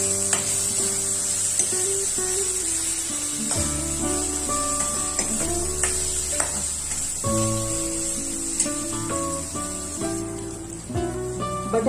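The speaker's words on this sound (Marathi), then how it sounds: "मी त्याच्यात जे कापलेले बटाटे आहेत ते घालत आहे आणि तेही चांगले मी त्या तेलात परतून घेईन" Cut potatoes frying in hot oil alongside onions in a pan, a steady sizzling hiss that runs throughout, with music playing over it.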